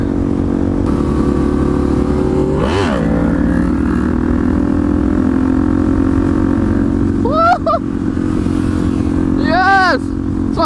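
Motorcycle riding on city streets during an Atlanta bike-life ride, a steady engine drone throughout with a pitch sweep near the start and rising revs from gear changes later; a voice is briefly heard over it.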